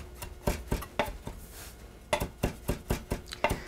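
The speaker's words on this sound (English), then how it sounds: "About the only prep work I need to do is just chop up some parsley." A knife chops Italian flat-leaf parsley on a board for crab cakes, giving a series of close, sharp taps in two bursts with a short pause between, alone with no talking.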